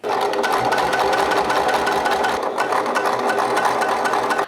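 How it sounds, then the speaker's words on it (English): A sewing machine top stitching along a seam of a triangle shoulder bag runs continuously at a steady fast pace, its rapid mechanical chatter loud and close, with a brief slowdown midway. "I am gonna pull the sewing machine back over and do a top stitch on either side of the seam"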